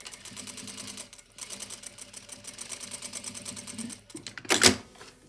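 A sewing machine runs top stitching along a jacket seam, giving a steady rapid needle patter for about four seconds before a sharp click or clunk near the end, close and alone without speech.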